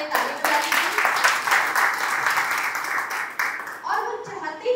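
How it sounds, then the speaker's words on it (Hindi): Lively applause fills a hospital hall during a Republic Day honoring ceremony, steady and fairly loud, with voices mixed in and a speaker's voice rising over it as the clapping fades at the end. "इसके लिए एक बार उन्हें ताली बजाइए।"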